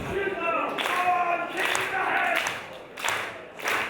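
Live pro wrestling crowd at a WCPW event clapping and cheering during a hard-hitting Big Damo versus Joe Coffey match, a steady roar of applause with surges, mixed with commentary talk.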